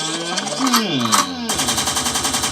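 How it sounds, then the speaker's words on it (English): Gunshot sound effect dropped by a DJ as a cue, a rapid burst of sharp cracks like machine-gun fire cutting in over a sung hip-hop vocal, loud and regular to the end. "a gunshot means forward"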